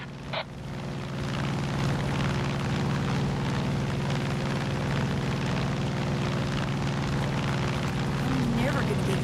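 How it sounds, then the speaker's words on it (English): Recon helicopter in the air in a video game, a steady loud engine and rotor drone that holds continuously close by, with speech over it. "Cult's got a recon helicopter in the air identifying resistance strongholds"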